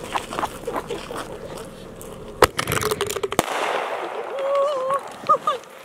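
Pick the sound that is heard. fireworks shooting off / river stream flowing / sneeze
fireworks shooting off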